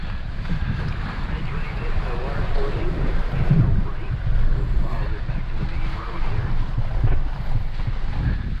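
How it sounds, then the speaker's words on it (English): A Ford Bronco Sport crawls off-road through water, giving a continuous churning splash and rumble mixed with heavy wind buffeting, loud and close throughout. "Into the water we go."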